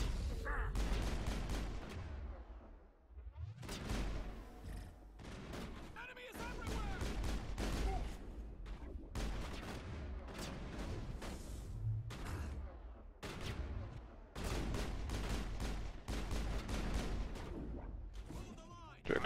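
Gunfire from a Mass Effect firefight on the planet Therum, with repeated bursts of shots and heavy impacts running through the whole stretch, loud and dense, while a player talks over much of it.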